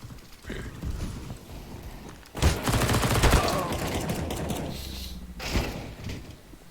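Bursts of gunfire in a first-person shooter video game, a loud volley cracking out in the middle and another shot near the end, over busy game sounds and background noise.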